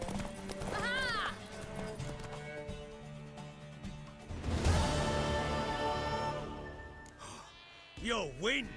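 Horse galloping and whinnying in a race in The Witcher 3 video game, hoofbeats mixed with loud neighs, game music and a voice speaking in between.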